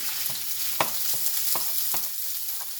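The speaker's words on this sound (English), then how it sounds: "I'm going to put that in there and stir it about a bit." Jasmine rice stirred into onions and garlic frying in a pan for a Chinese dish, a soft continuous sizzle broken by a few sharp scraping stirs.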